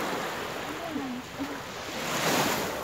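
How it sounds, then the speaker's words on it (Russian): Sea waves wash onto the Baltic shore on a May day, a steady broad surf hiss with a slow swell rising toward the end, some wind on the microphone, and a faint voice in the background. "Вот сейчас волна."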